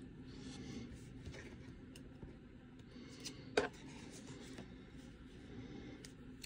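Pen scratching a number onto paper, a soft, close, continuous rasp with a short sharper stroke near the middle and no talk.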